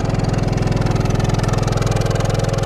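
An Onan Cummins QG 2500i LP RV generator, a propane inverter unit, runs steadily with a low, even pulsing engine hum, heard from behind the RV at moderate loudness without any voices.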